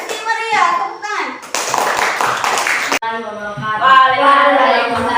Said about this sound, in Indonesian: Kasih meriah, tepuk tangan.